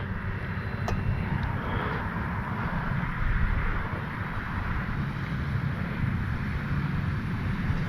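E-flite Carbon Z T-28 radio-controlled warbird airplane flying outdoors, a steady propeller and electric motor drone heard from a distance, with wind noise on the microphone and no voices.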